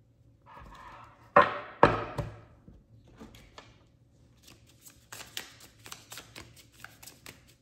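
Tarot cards being shuffled, with two louder riffling bursts near the start followed by softer, scattered card taps and flicks, close and with no talking.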